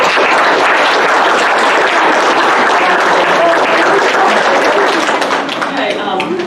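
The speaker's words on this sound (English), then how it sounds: "but I would like to hear applause for that." A city board of mayor and aldermen meeting fills with dense, loud applause from the room, steady and unbroken for several seconds before it begins to thin.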